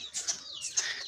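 Soft, faint bird calls near pigeons kept at a home loft, a couple of short chirping notes with a thin whistling sweep between them and no talk.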